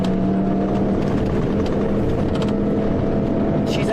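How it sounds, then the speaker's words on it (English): A rally car's engine runs steadily through a course stage, a constant low drone and whir heard close, with no talk over it. "We're listening to the engine."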